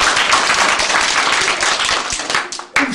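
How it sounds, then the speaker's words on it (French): A live audience claps together at a French stage show, a dense burst of applause that runs for about three seconds and briefly thins near the end. "Allez, hop, on applaudit."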